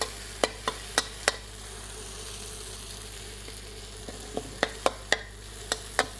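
Stink beans fry in a pan with sambal for Indonesian nasi goreng, a quiet steady sizzle broken by sharp spatula clicks and scrapes, a few early on and a quicker cluster near the end.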